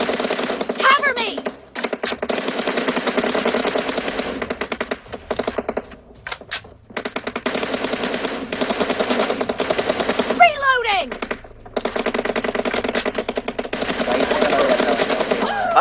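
Automatic gunfire in a team deathmatch video game, heard as long, rapid, rattling bursts close up that break off briefly and resume, with a player talking over the shooting.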